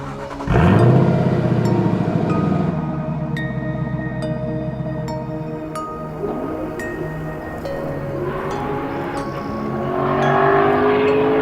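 A Lexus LC500 luxury coupe accelerates hard on the road, its engine note sweeping upward through gear changes, loud and close, then settling into a steady cruising drone.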